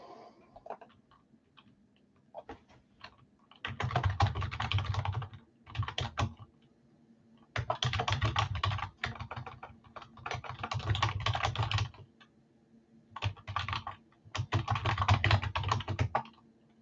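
Someone types on a computer keyboard in close, rapid bursts of clicking separated by short pauses, with faint ticking in the quiet gaps.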